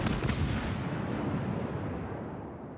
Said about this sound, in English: takes a nice long maximum range shot there with the AP